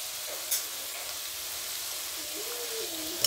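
Chicken frying in a pan for puchero, a steady close sizzle and hiss that runs evenly throughout with a couple of faint clicks.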